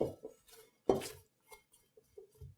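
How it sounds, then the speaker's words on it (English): Leftover donut dough scraped from a mixing bowl, with a few soft scrapes and clinks against the bowl, including one louder knock, spaced out and close by. "I'm going to use this bowl for the dough to rise in, I'm going to scrape everything out that I can"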